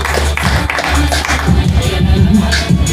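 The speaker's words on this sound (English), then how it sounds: "clap, give it some noise" A comedy club audience in Amstelveen claps and cheers for a stand-up comedian, loud scattered applause mixed with crowd noise and nearby voices talking.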